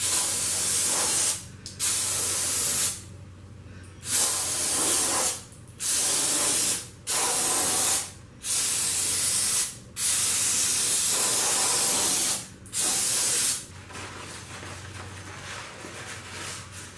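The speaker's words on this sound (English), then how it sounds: "For this occasion, I bought plenty of brake cleaner." Aerosol brake cleaner sprayed into a Honda Del Sol engine cylinder block during assembly, a series of loud, close hissing bursts of varying length separated by short gaps, ending in a fainter hiss.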